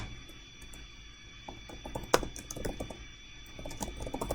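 Close, fast typing on a computer keyboard as a phrase is entered into a data chart, with irregular bursts of key clicks over a faint steady hum and one sharp louder keystroke midway.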